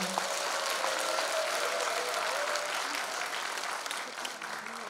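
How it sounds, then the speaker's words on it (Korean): Audience applause at a Korean lawmaker's community report meeting, a steady, even wash of many hands clapping throughout, with faint voices underneath. "큰 박수 부탁드리겠습니다."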